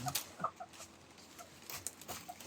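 Scattered chicken clucks, close and moderately loud, a few short calls spread irregularly over a noisy outdoor background.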